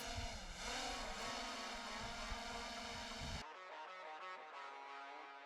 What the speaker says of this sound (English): As you can hear, the drone has arrived.